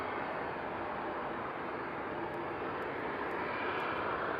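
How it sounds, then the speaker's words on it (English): A jet airliner takes off at night at Frankfurt Airport, its engines giving a steady, broad roar that holds at an even level throughout, with faint high ticks above. "Yep, it's gonna take off."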